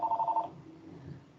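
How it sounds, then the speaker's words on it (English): A telephone rings in a quick run of four short electronic bursts, fairly loud and close, then stops, leaving only faint room noise. "Sorry about my phone, it just keeps ringing today."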